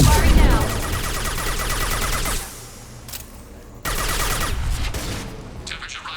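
Weapons fire in the video game Mass Effect 2, a dense volley of rapid gunshots and booms that breaks off briefly, then resumes with a game voice speaking over the battle.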